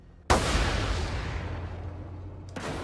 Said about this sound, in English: I'm getting hit by artillery too as a 2-for-1 bonus